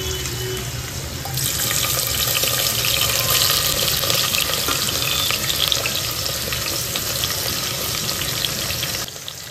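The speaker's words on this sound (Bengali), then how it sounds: "এখানে আমি বেগুন আর আলুটাকেও ভাজতে দিয়ে দিয়েছি" Eggplant and potato pieces fry in hot oil with a steady, even sizzle that holds at a constant level from start to finish, with no talking over it.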